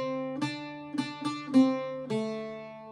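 Irish bouzouki picks the opening phrase of The Foggy Dew: five bright, close plucked notes in an uneven rhythm, ringing with shimmering metallic overtones and no speech.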